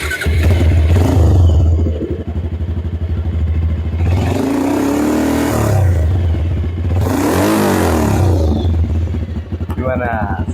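Custom scrambler built from a basic Bajaj Pulsar, with a stainless exhaust, idling loud and close with a steady low thrum, then revved up sharply twice in rising surges before dropping back to idle.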